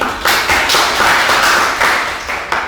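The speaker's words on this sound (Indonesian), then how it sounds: "beri tepuk tangan" Classroom applause during a micro-teaching Islamic jurisprudence lesson: a small group of students clapping in loose, irregular bursts, close and fairly loud, for about three seconds with no talking.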